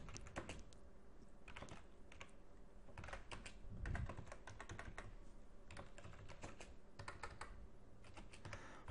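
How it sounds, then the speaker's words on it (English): Typing on a computer keyboard while writing a C++ program, a quiet and fairly close run of rapid irregular key clicks with short pauses between bursts. "My typing is still terrible."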